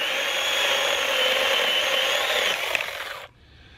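A Seesii 4-inch battery-powered chainsaw cuts through wood with a steady, close, high-pitched whirring hum for about three seconds, then stops and the motor spins down.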